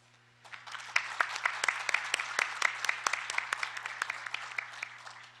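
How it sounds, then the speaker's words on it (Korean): Warm applause from a conference audience, starting after a quiet moment and building into steady, moderately soft clapping with distinct individual claps standing out, over a faint constant hum. "뜨거운 박수를 부탁드립니다."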